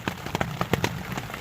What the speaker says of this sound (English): enjoy the sound of this rain